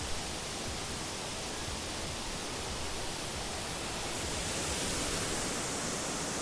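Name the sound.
waterfall in Harrison River Valley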